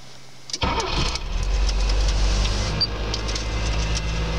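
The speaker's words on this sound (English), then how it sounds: "Though it's a pretty knackered old vehicle, still starts up pretty fine." A worn-out old microcar engine cranks and fires after a short silence, then settles into a loud, steady close-up idle with a low rumble.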